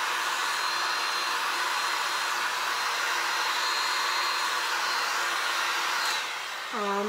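A hair dryer blows steadily with a constant whooshing roar, running alone throughout, with a brief shift in pitch near the end.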